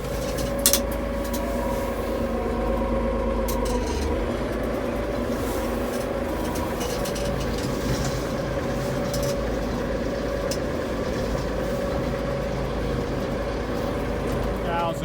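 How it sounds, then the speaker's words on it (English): A tractor engine drones steadily and loudly throughout while hauling hay bales, a constant low rumble with no pauses. "They hear the tractor running."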